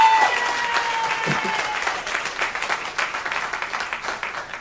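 A church congregation applauds musicians and a choir with steady, dense clapping throughout that swells slightly toward the end, with faint voices mixed in.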